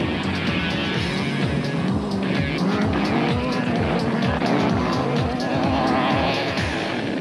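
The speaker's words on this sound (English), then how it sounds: "This spot is where the production cars battled in the loose powder, but not Whitehouse and Carlson" Rally production cars racing through loose powder, engines roaring loud and close with repeated rising and falling revs and gear changes, tyres scrabbling over the surface as they pass.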